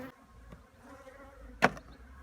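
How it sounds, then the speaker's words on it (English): Honeybees hum around an open hive during an artificial swarm split, a faint, steady buzz with a sharp knock partway through. "I've got a large number of bees right at the moment, as you can hear"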